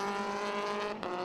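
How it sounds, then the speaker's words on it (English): Caterham race cars blasting down the centre straight at Snetterton during a race, a loud, close engine roar with steady tone sweeping past, no talk over it. "It's wonderful engine sounds going past the commentary box window here with the cars blast down the centre straight"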